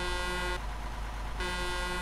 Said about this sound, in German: Also Hupe funktioniert.